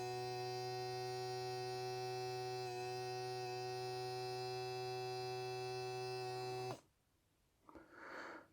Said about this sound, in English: can even put this pump on the floor if I want while I'm diamond painting, if I think this is too noisy